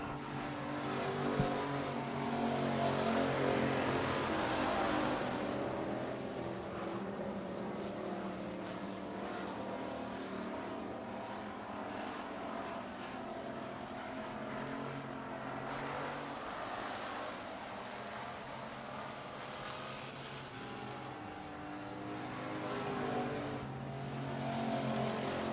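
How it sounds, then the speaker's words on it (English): Street stock race cars roar around the dirt oval of Miller Central Speedway at night, a steady wash of engine noise that swells and fades as the pack passes, fairly distant, with no voices. "Kyle Bertram building on his race lead in car 19. Clear out in front of everybody on the back straightaway."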